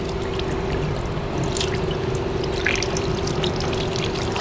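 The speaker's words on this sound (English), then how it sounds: "it just drains to the other jug without any problem" Ozonated water pours steadily from an automatic spout into a jug at a homemade outdoor hand-washing station, a loud continuous close stream with light trickling and bubbling.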